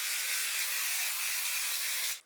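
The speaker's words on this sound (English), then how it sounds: "Spray with hairspray." A steady, close aerosol hiss of hairspray being sprayed in one continuous burst for about two seconds, then cutting off.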